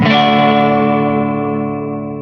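A guitar chord decays through a reverb effects pedal with fast modulation, the shimmering wash fading slowly over two seconds, loud and close with no talking.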